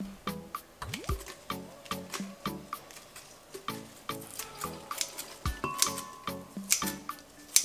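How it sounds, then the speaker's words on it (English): Scissors snipping leaves off a potted basil plant for pesto, a string of quiet, crisp cuts in a steady rhythm, close and soft, with faint clicking and light water-like sounds underneath. "So, for the pesto I need to cut off the leaves."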